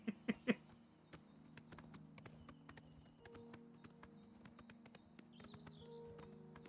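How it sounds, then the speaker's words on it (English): Horse hooves clip-clop in Oblivion Remastered, a few sharp loud strikes at first, then a steady softer patter of steps under game ambience with distant chirps. "Hey, look, I do have a horse."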